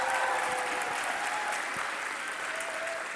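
Applause from an audience at a League of Legends tournament at DreamHack, a dense sustained clapping from a crowd, with a few faint whistles over it.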